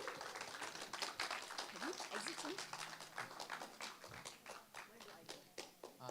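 A small audience claps to welcome a speaker onto a stage. The clapping is faint but steady, a continuous patter of hands lasting several seconds, with a voice briefly heard over it.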